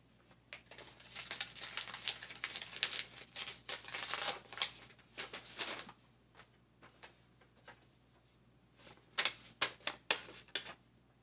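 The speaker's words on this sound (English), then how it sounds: "I'm just going to get right into it and open this envelope." A paper envelope is opened by hand with dense crinkling, tearing and rustling for about six seconds, then scattered sharper paper crackles and handling noises, close and fairly quiet.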